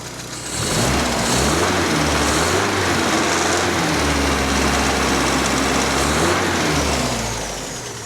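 A Triumph 1500 rear-wheel-drive saloon's twin-carb 1500 engine idles steadily after starting up, a loud, even, low drone close by that holds for several seconds before easing slightly at the end.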